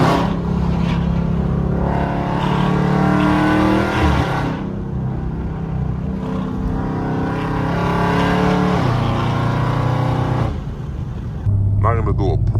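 A Dodge Charger RT with a loud aftermarket exhaust drones heavily from inside the moving car, with a rising and falling engine note and a brief dip near the end.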